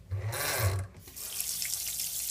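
Tap water runs into a kitchen sink while a cast iron skillet is washed, a gushing splash that briefly dips then continues with rubbing and dripping sounds, no talking.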